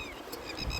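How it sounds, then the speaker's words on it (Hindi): Birds call at a river confluence on the Narmada, a short burst of cooing and chirping over steady flowing-water noise, with no talk. "पक्षियों की आवाज़"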